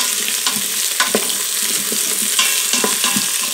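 Bacon and onions sizzle in the pot of an Instant Pot, a bright steady crackle with a few stirring scrapes and taps, loud and near, with no voices.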